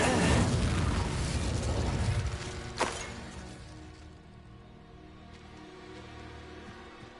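In the video game Hogwarts Legacy, a Confringo spell goes off as a loud, close blast that rumbles for about two seconds, then a sharp crack follows and a low hiss trails away, with no talking.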